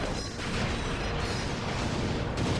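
Gunfire from sniping in the video game Ratchet and Clank: Up Your Arsenal, heard as a loud, dense barrage of booming, crackling bursts that fill the whole stretch with no pause.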